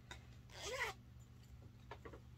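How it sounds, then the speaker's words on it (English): A zipper on a Dollar Tree item is pulled once in a quick, close rasp, then a few faint clicks and rubs follow in a quiet room. "I always check my zipper because sometimes you come home with a zipper and the zipper doesn't work."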